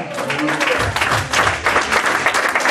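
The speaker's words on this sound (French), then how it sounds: "Est-ce qu'on peut acclamer pour Jéhovah?" A congregation at a worship service claps and cheers for Jehovah, with loud, dense, sustained applause and cheering from a large crowd, with voices mixed into the clapping.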